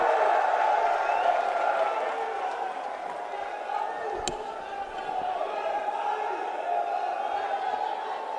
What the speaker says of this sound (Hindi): जोरदार तालियों से स्वागत कीजिए प्रियंका गांधी वाड्रा जी का